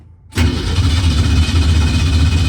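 A long-neglected 1968 Ford Mustang that is flooding fires after a short quiet moment and settles into a loud, rough, steady idle, close to the microphone.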